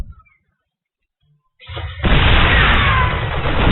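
Siege tanks fire during a Terran-versus-Terran StarCraft match, heard as a sudden heavy blast that swells into a loud, sustained roar of explosions after a quiet opening.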